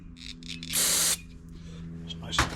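Carburetor cleaner sprays from a can into the carburetor of a five-year-old, never-used Powersmart push mower that won't crank: one short, close, sharp hissing burst, with quiet talk before and after.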